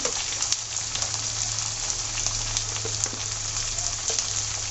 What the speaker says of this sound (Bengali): আদা রসুন এবং মশলা কিছুক্ষণ ভেজে নিয়ে